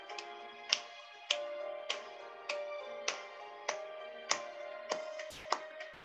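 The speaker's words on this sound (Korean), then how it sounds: "박수 치시면서 찬양하시겠습니다" A congregation at a Korean church's Wednesday worship service in Paris claps along to hymn 429, with steady, evenly spaced hand claps landing about every half second over sustained sung harmony.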